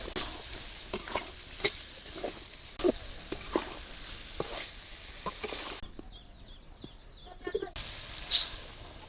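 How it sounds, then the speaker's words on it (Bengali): Fish being sautéed in a pan with potato and tomato, a steady sizzle under scattered sharp clinks of a spoon stirring, with a brief quieter pause and a loud scrape near the end. "এটা আলু টমেটো কষানো হয়ে গেল আমি মাছগুলো দিয়ে কিছুক্ষণ কষাই নেই"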